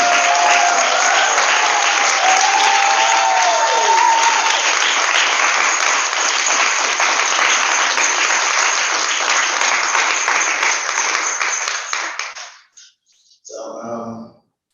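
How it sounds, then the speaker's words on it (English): Loud, sustained audience applause with cheering and whistles for a young poet at a youth poet laureate finals in Prince George's County, running steadily for about twelve seconds before fading, then a brief voice. "Please start clapping for Beltsville's own"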